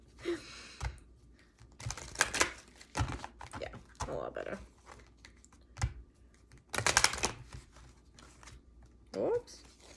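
Tarot cards shuffled on a soft surface during a Cancer horoscope reading, giving irregular papery riffles and taps in short bursts, close and moderately loud, with a few quiet breaths between.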